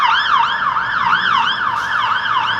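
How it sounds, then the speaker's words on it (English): A fire engine siren wails loud and close, its rising and falling tone cycling steadily as the truck passes along a street, with no talk over it. "We'll let the fire engine go round."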